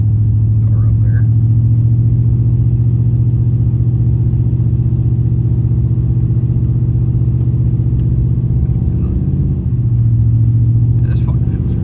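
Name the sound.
GMC 2500HD truck driving up a snowy hill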